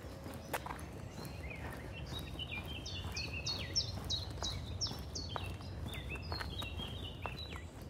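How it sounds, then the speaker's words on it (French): Birds singing in trees beside a forest walking trail, a series of bright repeated whistled phrases at moderate distance over a low ambient rumble and faint steps, no speech. "Je me suis arrêtée pour enregistrer les oiseaux"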